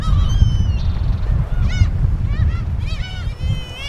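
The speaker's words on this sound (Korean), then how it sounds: "먹이를 쫓아 바다 갈매기들은 항구로 모여든다." Seagulls gather at a harbor, giving several loud honking, goose-like calls in quick bursts over a steady low rumble of wind or water.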